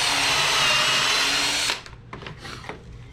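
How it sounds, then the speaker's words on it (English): A power drill whines loudly as it bores a hole into a clamped wooden mini cornhole board, then cuts off, leaving faint handling noises. "and drill it."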